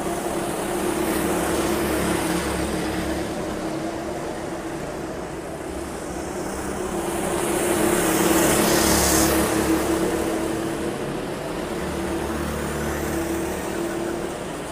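Racing karts circling a track, a steady engine drone rising and falling as they pass, with a broad swell midway suggesting karts sweeping by close, continuous throughout.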